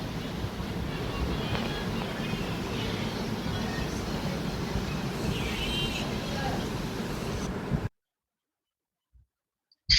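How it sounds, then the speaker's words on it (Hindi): Strong stormy wind roars and buffets steadily for about eight seconds, a dense, rushing broadband noise, before it cuts off abruptly to near silence with a few faint clicks. "देखो कितनी तेज तेज हवा चल रही है, बहुत ही ज़्यादा तेज।"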